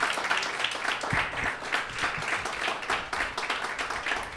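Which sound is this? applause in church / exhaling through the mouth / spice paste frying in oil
applause in church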